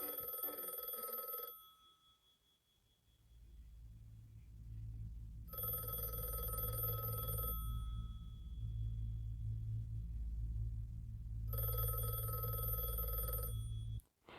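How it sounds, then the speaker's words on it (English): A telephone rings in repeated bursts, each ring lasting about a second and a half with a few seconds between them, over a steady low background hum in a cartoon web series. "how that phone ringing totally changed the whole tone of the episode"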